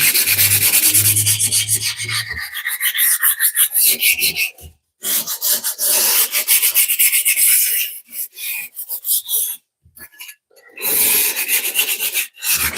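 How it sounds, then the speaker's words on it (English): Pottery is wet-sanded in a sink, giving loud, close rasping strokes that rub back and forth in repeated bursts with a few short pauses between them. "Wet sand in the sink so I don't get dust in the studio."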